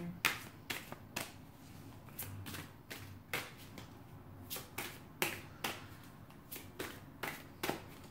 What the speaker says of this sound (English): I try to shuffle on camera for you guys